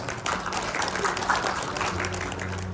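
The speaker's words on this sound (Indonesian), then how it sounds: "Satu orang yang tepuk tangan" Scattered hand clapping from a congregation during a church sermon, a few claps rising over a steady, faint background hum and tonal music for under three seconds.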